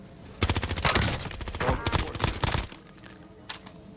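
Sniper and other gunfire in Call of Duty Warzone, a burst of loud shots and rapid cracks packed into the first few seconds, with one more isolated shot near the end and faint voice underneath.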